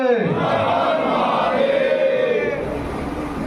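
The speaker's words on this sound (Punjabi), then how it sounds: "ਇੱਕ ਜੈਕਾਰਾ ਸਾਰਿਆਂ ਦੀ ਆਵਾਜ਼ ਆਣੀ ਚਾਹੀਦੀ ਆ" A crowd at a Hindu organisation's foundation day gathering shouts a jaikara slogan together, a loud, sustained collective roar of many voices that swells and then slowly fades.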